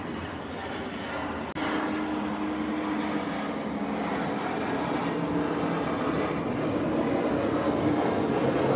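A fixed-wing airplane passes overhead near a resort, a broad engine roar that swells and grows steadily louder over several seconds, continuous and fairly close.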